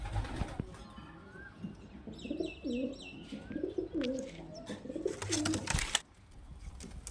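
Kalshira Madrasi Kalduma highflyer pigeons coo in soft repeated phrases close by, with scattered chirps, a brief wing flutter and a few sharp knocks in between.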